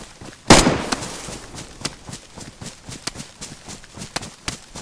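Gunfire in DayZ, with one loud close shot at the start, then a long run of sharper, fainter cracks and pops spaced irregularly over a rough background.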